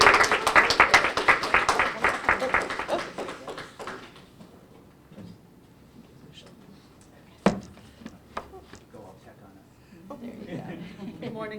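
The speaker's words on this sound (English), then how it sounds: "let's give her a round of applause" Audience applause at a library digital equity event, a burst of clapping in the first few seconds that quickly dies away, followed by quiet room noise, a few knocks and a person beginning to speak.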